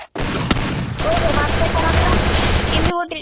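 Rapid bursts of Thompson submachine gun fire in a video game, loud and dense with crackling shots, followed by a voice talking briefly at the end.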